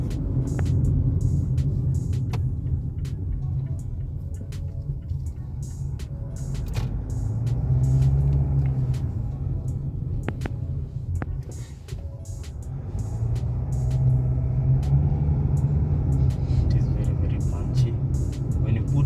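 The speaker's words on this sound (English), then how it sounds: "You can hear the engine roar." A 2015 Mazda CX-5 engine roars steadily as it drives, a deep continuous rumble that swells and eases in waves, with intermittent clicks and rattles over it.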